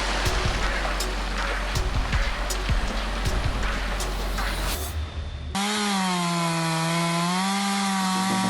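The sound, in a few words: chainsaw cutting an uprooted tree trunk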